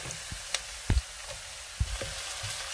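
Garlic sautéing in a hot pan with ginger, a steady close sizzle broken by a few soft pops and stirring knocks, with no voices.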